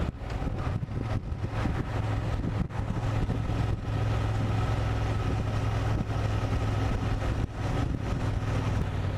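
A Honda Transalp 750 motorcycle under way, its engine a steady low drone mixed with heavy wind rush across the microphone, without talk.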